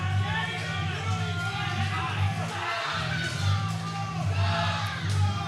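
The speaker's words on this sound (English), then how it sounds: "they chant sucks after every time he says bravo, totally disrespecting the champion" Wrestling arena crowd chanting "sucks" at the champion, a dense wall of voices with rhythmic swells in steady waves, loud and close, with a hum underneath.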